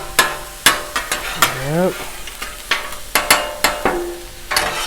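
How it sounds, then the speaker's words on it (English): Sausage frying in a pan for a breakfast quesadilla, with repeated sharp clanks and scrapes of a utensil against the pan as the links are turned, over a steady sizzle; someone briefly speaks. "Now let's flip this sausage."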